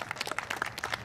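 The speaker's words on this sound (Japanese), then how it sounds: "皆様もう一度大きな拍手をお願いいたします" Audience applause follows a Chichibu yatai-bayashi performance by the Chichibu kyōdo-kai, a short burst of scattered claps at moderate level with no voices.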